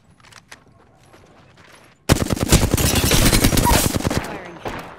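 Gunfire in Apex Legends while playing Wraith, starting abruptly as a loud rapid automatic burst after a quiet stretch of faint clicks, then trailing off near the end.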